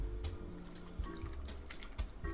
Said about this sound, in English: I have my ice in my cup. I'm just going to pour in